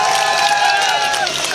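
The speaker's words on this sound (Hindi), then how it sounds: "जोरदार तालियों से इसका स्वागत कराया जाएगा" A crowd at a political gathering outside a BJP office in Haryana breaks into loud, sustained applause and cheering, filling the short stretch without a break, with voices mixed in.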